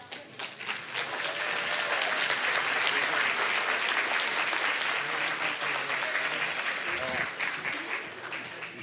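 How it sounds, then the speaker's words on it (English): An audience applauds Frank H. Turner at a military service award ceremony, the clapping swelling within a second and holding steady and dense before thinning near the end, with a voice faintly audible underneath. "One more round of applause for Frank."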